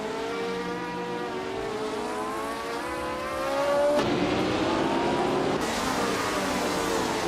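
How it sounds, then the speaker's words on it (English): Race cars, including a 1963 Brabham BT3, starting a race: a sustained engine drone with rising and falling revving tones, swelling louder midway as the cars accelerate, with no talking. "the race kicks off at Huachilalim Porto, and leading the pack is Timborghini Tube on pole, cruising in a 1963 Brabham B. T3"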